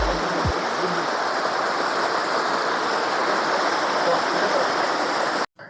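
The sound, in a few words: waterfall on a hill at Rachakonda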